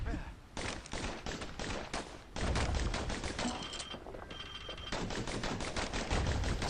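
Dual slinger pistols firing in the Bastion video game, rapid rhythmic shots in quick bursts with short gaps, loud and close, layered with other impact sounds throughout.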